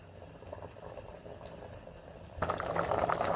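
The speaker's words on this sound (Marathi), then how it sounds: "छान उकळी आली आहे।" Masale bhat liquid bubbles gently in a pot, then swells into a louder, vigorous rolling boil partway through, close and steady.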